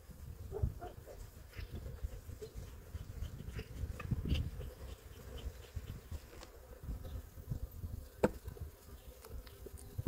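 Honey bees at an opened hive in early March, during a detailed colony inspection: a low, fluctuating buzz with individual bees passing close now and then, fairly quiet with no talk.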